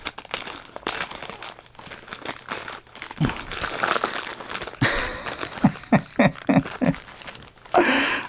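Plastic mail bag being opened with scissors, crinkling and crunching plastic handled up close, followed by a run of sharp, rhythmic snips and rustles toward the end.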